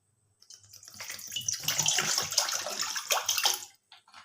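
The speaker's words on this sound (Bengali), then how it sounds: "জল দিয়ে দেবো।" Water pours into a pot set on a gas stove for steaming paneer, a close, splashing, gurgling stream lasting about three seconds with no talk.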